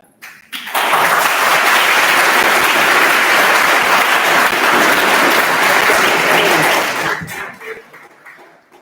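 An audience at a World Down Syndrome Day event bursts into loud, sustained applause that holds steady for several seconds and then tapers off.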